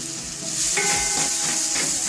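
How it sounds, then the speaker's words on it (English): Onions and split green chilies sauté in a pan for a tomato and lentil dal, giving a steady, close sizzle with faint stirring scrapes and no voice. "Saute the onions until they are soft."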